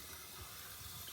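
A Kohler toilet tank fills slowly through a faulty fill valve, making a faint, steady watery hiss that runs without a break.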